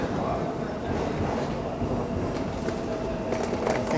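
A Seoul subway Line 1 train runs with a steady low rumble and rattle of wheels on track, a continuous noisy roar throughout with faint clicks near the end.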